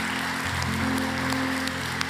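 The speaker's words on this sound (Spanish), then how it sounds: "Le damos un fuerte aplauso al Señor." A church congregation applauds during a Spanish-language service, a brief steady patter of clapping at moderate volume over a sustained tonal hum, likely from instruments or the sound system.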